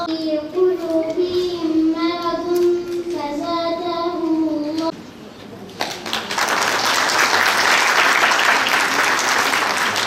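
An audience applauds someone at a Quran course students' ceremony. A sustained melodic recitation voice comes first, then loud, dense clapping from a large crowd fills the second half.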